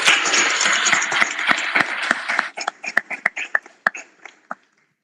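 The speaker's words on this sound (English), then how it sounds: "So can we have a round of applause for Malcolm Walker?" Audience applause at an international cardiovascular research symposium: dense clapping for about two and a half seconds, then thinning to a handful of scattered, separate claps before stopping.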